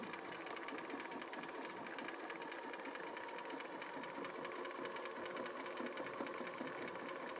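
A sewing machine stitches bargello quilt pieces in a steady, continuous whir with rapid needle chatter throughout, close and fairly loud with no voices.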